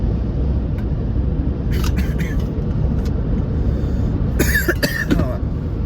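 Two bursts of coughing, a short pair early and a harsher cluster later, over the constant rumble of a moving car's engine.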